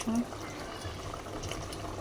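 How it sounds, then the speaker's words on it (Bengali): A mug of water is poured over cooked goat meat for biryani, giving a short liquid splash and gurgle while a person talks. "যে এক মগ পানি দিলাম এখানে"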